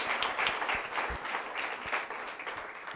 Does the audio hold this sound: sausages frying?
no